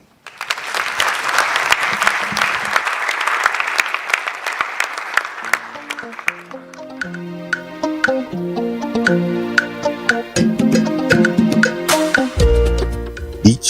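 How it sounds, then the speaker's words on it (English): Audience applause fills the first half at a science and maths quiz championship launch, a loud sustained clatter that fades around the six-second mark as ringing music takes over. "while the rest of you clap"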